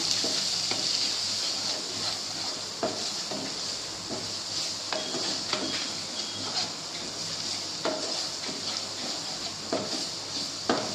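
Coriander powder, cumin powder and spices stirred in a pan for aloo dum, a steady close sizzle with repeated scraping and light clinks of the spoon against the pan at an even pace.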